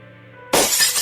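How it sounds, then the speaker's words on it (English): A sudden loud crash of shattering glass in the adventure game Shardlight, a single bright burst with tinkling fragments, following a quiet tonal musical background. "Don't get near the broken glass, okay?"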